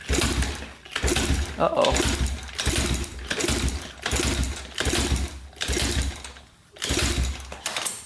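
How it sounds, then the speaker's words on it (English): An old pit bike that sat in a barn for years is kicked over with the throttle open, its low-compression engine churning in repeated roughly one-second bursts without catching, close by, with a brief spoken exclamation. "Got throttle open. Give it a couple kicks. See what happens."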